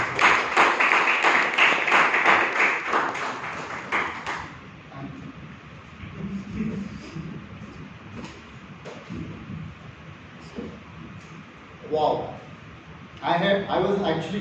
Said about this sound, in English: Please help me welcome with a thunderous round of applause